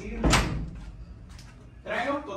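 A door shuts with a single sharp, fairly loud thud near the start, followed by quieter room noise and a person speaking toward the end.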